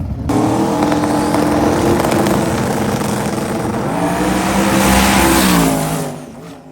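A slick-tire drag race car at Sick Week makes a pass, its engine roaring loud and close, revving and climbing in pitch, then fading away near the end.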